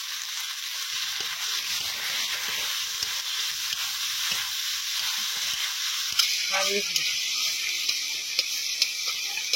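Steady loud sizzling of tomatoes frying in a hot pan with salt and turmeric, with occasional light scraping and clinks from stirring partway through.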